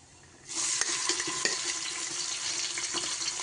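Onions hit hot oil already holding cinnamon, cloves, cardamom and cumin, and a sudden steady sizzle starts and keeps hissing loudly, with occasional stirring clicks and no talking.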